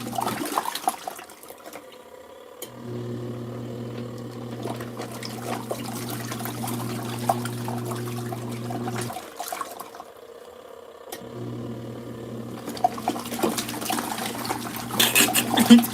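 An LG ThinQ MEGA washer on a Fluffy Cotton cycle fills with water during its cooldown fill. Two long stretches of steady humming inflow are split by a short pause, with a mild watery splash over them.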